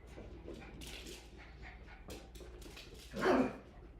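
Dogs whimper and give a few soft yips indoors, quiet and scattered, with one louder bark-like burst near the end, over a low background hum.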